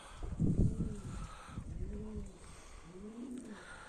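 Pigeons coo in a slow series of soft, rounded calls, three distinct phrases close by, with a brief flutter or rustle at the start and quiet outdoor background.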